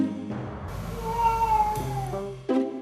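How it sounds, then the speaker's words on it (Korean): House cat meowing at night toward sleeping owners, one long drawn-out wavering meow close to the microphone, followed by the start of a second cry. "모찌야, 너 왜 우는 거야?"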